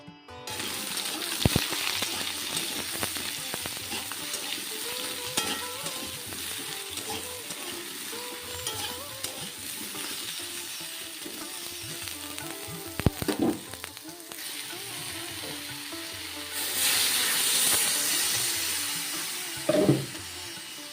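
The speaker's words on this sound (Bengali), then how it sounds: "তো ভালো করে সয়াবিন আর ওই আলুটা মানে ভেজে নিয়ে মশলা কষিয়ে জল দিয়ে দিলাম" Soybean chunks and potato cooking with spices in a pan, a low, steady sizzle with occasional clinks and stirring scrapes, ending in a louder burst of hissing.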